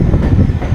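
A passenger MEMU train on the Katni–Chirimiri line rolls on after leaving Amlai station, a loud, steady low rumble heard from on board with no pauses.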